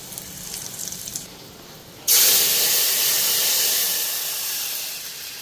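Dry red chillies and panch phoron spices hit hot oil with a sudden loud hiss midway, after a quieter stretch of faint sizzling, then a dense, steady sizzle that fades only slightly toward the end.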